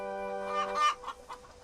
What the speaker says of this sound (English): At long last, Farmer McColl arrived with the chickens, and Thomas was on his way.